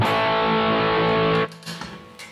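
An electric guitar chord rings through an Origin Effects Revival Drive overdrive pedal with its mid boost engaged, thick and loud, sustaining before being cut off and followed by faint string noise.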